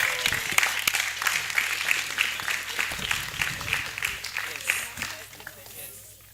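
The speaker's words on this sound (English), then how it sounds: "A round of applause, please." A conference audience at an annual New Year School applauds, with sustained clapping from many people, a low steady hum underneath and voices mixed into the noise, fading toward the end.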